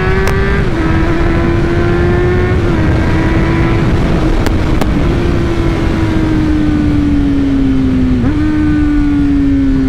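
A four-cylinder 2011 Honda CBR 600 F sport motorcycle engine revs steadily at high pitch, its tone rising and dipping slightly, loud and close throughout with no talking.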